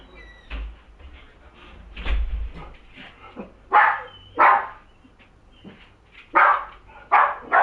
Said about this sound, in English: Are you barking at Logan?